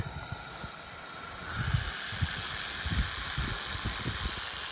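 A rattlesnake hisses steadily in South Texas brush, a continuous, close, breathy rush that holds without pause, with only faint low rustling beneath and no talk.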